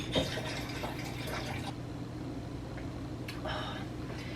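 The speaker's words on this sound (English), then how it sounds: "so I will add water" Water poured from a tap or jug into a glass of lemon-flavoured drink, a soft splashing fill with a few drips, fairly close and moderately quiet against low background hum.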